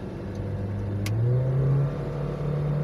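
Car engine revving in first gear during a driving lesson, a steady close rumble whose pitch rises as it accelerates, with a brief faint click partway through.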